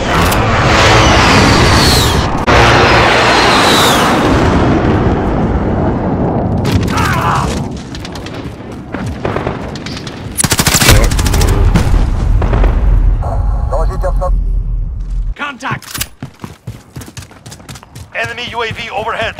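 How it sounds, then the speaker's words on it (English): Heavy explosions from a precision airstrike in Call of Duty: Modern Warfare, a run of loud booming blasts and rumbling impacts one after another, mixed with clattering battlefield noise and occasional voices. "Allied precision airstrike incoming."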